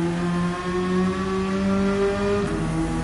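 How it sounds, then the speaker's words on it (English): Peugeot RCZ GT Line in Gran Turismo 7, a loud steady engine drone with a rising high-pitched turbo whine spooling up over three seconds, no talk. "we can really hear the turbo spool up on this vehicle"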